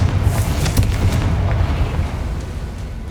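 A Confringo fire curse bursts in Hogwarts Legacy, a loud, dense booming blast with a heavy low rumble and crackling debris that stays steady and sustained over a few seconds.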